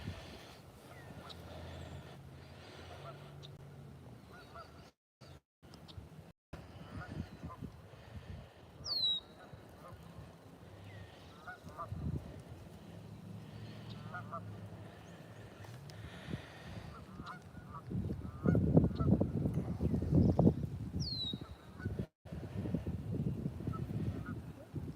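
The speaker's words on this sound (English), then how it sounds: "These are the geese that you hear" Geese honking by a lake during a woodland walk, with a couple of faint, distant honks standing out above a steady outdoor background and heavier rustling noise close by near the end.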